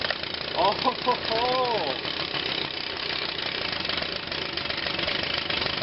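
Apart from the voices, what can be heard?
Echo PB-251 leaf blower engine cold starting at 17°F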